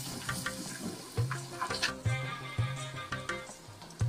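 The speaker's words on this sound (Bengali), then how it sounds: "এবার বাটা মশলা, টমেটো পেস্ট, টক দই, নুন, হলুদ আর অল্প মিষ্টি দিয়ে কষো" Spice paste, tomato paste, yogurt, salt, turmeric and a little sugar being stirred and sautéed in hot oil with dried chili and asafoetida, giving a steady close sizzle with rhythmic scraping stirs in a home kitchen.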